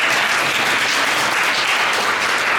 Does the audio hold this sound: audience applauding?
yes